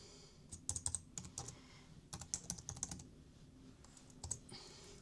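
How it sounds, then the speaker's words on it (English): Quiet clattering of keys on a computer keyboard, typed in short irregular bursts with brief pauses, close by and without talk. "Typing in front of other people is always a bit of a challenge."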